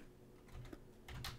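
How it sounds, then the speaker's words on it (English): Quiet bursts of computer keyboard typing during a Minecraft session, soft rapid key clatter in two short clusters over low room noise, with no speech. "I got a pretty good keyboard and the sound is pretty low."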